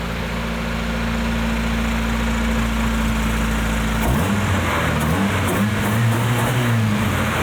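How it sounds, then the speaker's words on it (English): A 1980s Honda CRX Si engine idles with a steady low drone, then revs up midway to about 3,000 rpm into a raspier, rising roar that stays loud and close. "there's that little Honda rasp right there at 3K"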